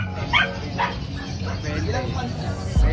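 Small dogs, including a Pomeranian, yip and bark in short bursts at an outdoor pet market, partly masked by crowd chatter and people talking nearby.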